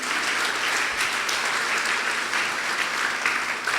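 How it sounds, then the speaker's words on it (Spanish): A church congregation applauds during a Sunday service gathering, a dense, steady roar of many hands clapping together at close range, sustained without a break and with no speech over it. "Dele un aplauso al que vive y al que reina"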